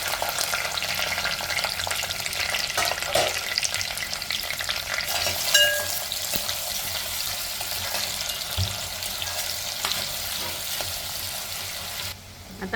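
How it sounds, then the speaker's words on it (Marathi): Onion frying in a pan with bay leaf and curry leaves, a steady close hiss of sizzling oil with occasional stirring scrapes, continuous and fairly even throughout. "आणि कांदा टाकते।"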